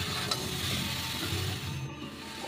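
Vegetables for a chicken stew stirred and fried in a pan, giving a soft steady sizzle with a few scraping strokes, close and without voices.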